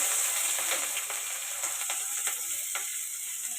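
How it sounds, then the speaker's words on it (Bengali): Onions fry in a pan with whole spices, giving a steady bright sizzle up close with faint scraping and clicking from stirring. "পেঁয়াজটা ভালো করে ভাজতে থাকবো।"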